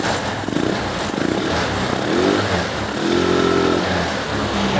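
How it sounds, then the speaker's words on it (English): A Vespa ET4 scooter engine runs with its air box removed, a steady buzzing idle that swells into a couple of modest revs, close and continuous throughout. "It's not going to rev out all that well without the air box in place."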